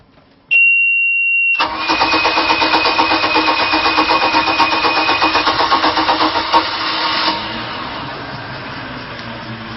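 A Bayliner 2252 Express Hardtop V6 boat engine cranks after a brief beep, catches and settles into a steady, close, loud idle, easing slightly quieter toward the end with no throttle.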